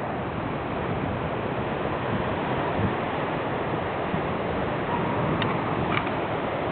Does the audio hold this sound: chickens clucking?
no